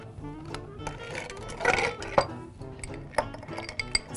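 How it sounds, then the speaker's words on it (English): Ice added to a glass for a scotch and amaretto cocktail: a few scattered clinks and knocks of cubes against glass, close and moderately loud, with no talking. "And then you simply add ice."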